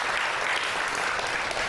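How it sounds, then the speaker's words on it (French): Audience at a public health event in Guinea bursts into steady, dense applause, sustained and fairly loud throughout with no pauses. "Applaudissez très fort pour lui."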